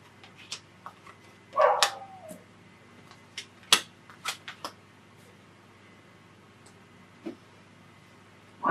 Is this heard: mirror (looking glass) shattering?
no